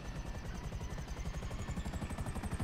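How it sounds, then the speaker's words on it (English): A helicopter in Grand Theft Auto V idles nearby, its rotor beating in a fast, steady chop with an engine whine underneath, loud and continuous with no talking. "Do we want a gun and chopper, or do we want this chopper?"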